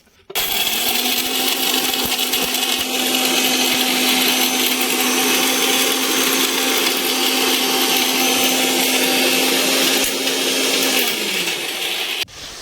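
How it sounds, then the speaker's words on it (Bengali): An electric grinder powders fried ingredients for homemade baby cereal, running as a loud, steady whirring roar for about eleven seconds, then winding down and stopping abruptly. "এবার এগুলিকে গুঁড়ো করে আর যেহেতু হাজবেন্ড বাড়ি রয়েছে তা এগুলি ওই গুঁড়ো করে দিচ্ছে"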